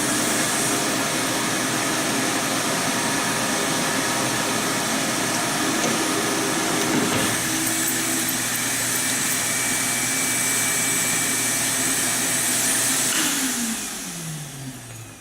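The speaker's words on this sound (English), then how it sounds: "Turn on the vacuum." A shop vacuum runs continuously with a steady, loud whine and broadband hiss, alone with no voices. Near the end its pitch sweeps downward as it begins to wind down.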